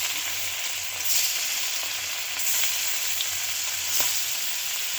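Mrigal fish, spiced and dropped into a hot wok of oil with cumin seeds, fries with a steady broad sizzle and crackle that holds for the whole stretch, with a few light pops and no voices.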